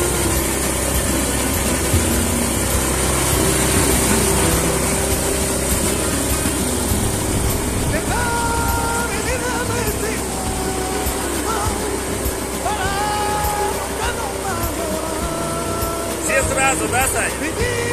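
A Yanmar 500 sprayer engine runs steadily close by, a continuous loud mechanical drone with some higher whining tones, while people talk over it.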